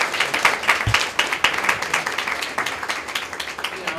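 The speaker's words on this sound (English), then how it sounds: "can we give the first group another round of applause?" An audience applauds the first group of contestants at a student STEM challenge event, the Barracuda Bowl, with dense, steady clapping throughout that stays at a moderate level with no voices over it.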